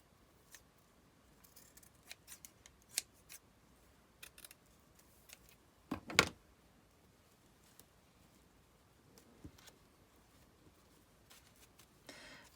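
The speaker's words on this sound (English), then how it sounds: "So I'm just going to kind of cut that part." Scissors cutting paper for a homemade Christmas tree ornament: quiet, sparse snips and clicks scattered over several seconds, with one louder cluster of cuts in the middle, no talking.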